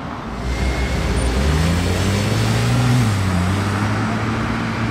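A Porsche 997 phase 2 Turbo S and an Audi R8 V10 supercar pass in a police-escorted convoy in Paris, their engines rising and falling in pitch as they drive by close and steady, loud throughout.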